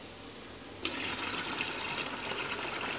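Cooking water is tipped out of a pot, starting abruptly after a quiet moment and continuing as a steady, splashing rush that is fairly faint, with no speech.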